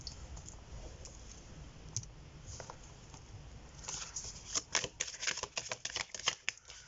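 Oracle card decks being shuffled, with quiet clicking and papery riffles that grow louder and more rapid toward the end, close and alone.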